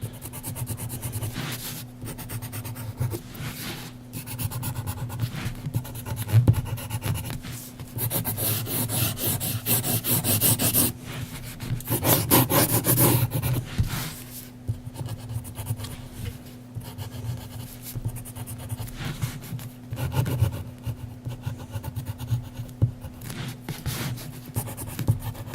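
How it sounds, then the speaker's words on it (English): An HB graphite pencil sketches on plain printer paper, a soft continuous rubbing and scratching that comes in steady strokes close up, with a few denser passes of quicker shading. A low constant hum sits underneath throughout. "I'm using regular printer paper and an HB pencil."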